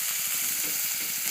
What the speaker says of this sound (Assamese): এতিয়া মই লাহে লাহে ইয়াৰ পৰা পিঁয়াজখিনি ভাজি ল'ম